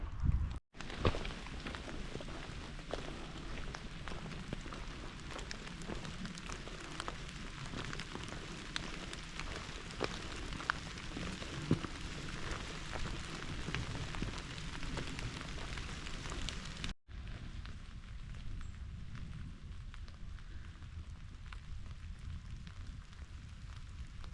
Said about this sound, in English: hiking on pouring rain